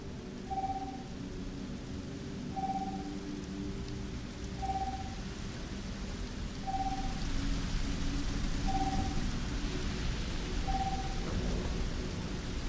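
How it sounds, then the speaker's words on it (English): A Starfield thunderstorm brings steady rain hiss and a low rumble of thunder that swells toward the end. A short electronic beep repeats about every two seconds through the storm, and no one speaks. "Thunderstorm activated."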